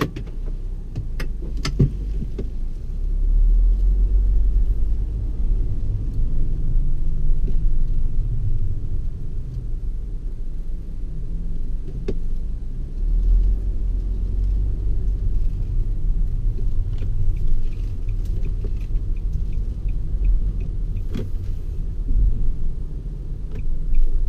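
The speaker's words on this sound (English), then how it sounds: "The car that I'm using is a 2019 Nissan Serena S Hybrid J Impul" A 2019 Nissan Serena S-Hybrid J Impul minivan drives along the road with a steady low cabin rumble, faint ticks and small bumps throughout, and no voices.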